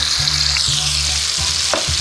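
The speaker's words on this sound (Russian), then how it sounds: "и нарезанные кубиками сало и даю возможность салу слегка, слегка обжариться" Diced pork fat (salo) sizzling and frying in a pan, a steady dense crackle with a few stirring scrapes, close and alone without talk.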